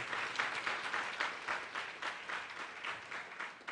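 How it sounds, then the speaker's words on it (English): An audience at a school kick-off celebration applauds in a dense, steady wash of clapping that swells and dips in waves throughout, with no voices on top. "Can we give everybody a large round of applause?"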